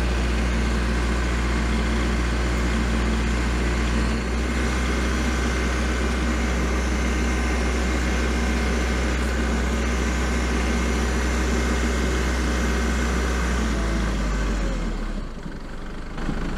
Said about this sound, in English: it's actually recommended by Kubota to be in low gear while your tractor's warming up